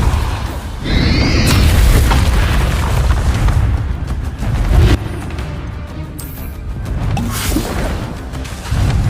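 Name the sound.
Confringo and Bombarda spell explosions, Hogwarts Legacy video game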